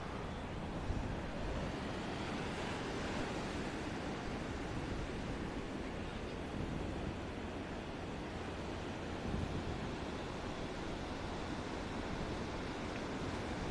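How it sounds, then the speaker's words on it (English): Ocean surf rolling in steadily at Surfer's Corner beach, a broad, continuous wash of breaking waves with constant roar and faint wind, no voices. "We bring the surf to you, even though you're not surfing."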